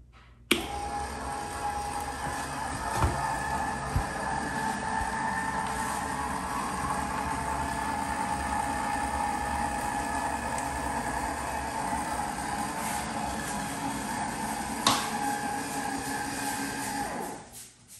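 A steady mechanical whirring hum of a model train elevator lowering, continuous for the whole stretch with a couple of soft clunks, then stopping at the end.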